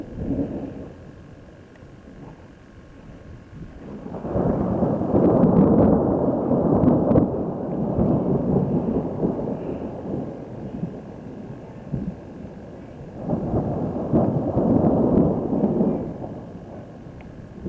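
Thunder from a lightning storm rumbles in two long, heavy rolls, each swelling and fading over several seconds, distant but powerful, with quieter gaps between and no speech.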